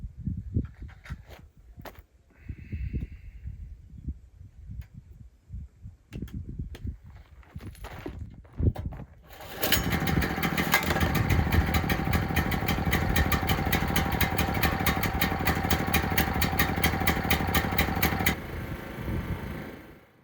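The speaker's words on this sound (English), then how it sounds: "with the generator working" Small engine generator starts and runs steadily after a few seconds of scattered knocks and handling noises, then holds a loud, even mechanical drone with a rapid pulsing rhythm before cutting off near the end.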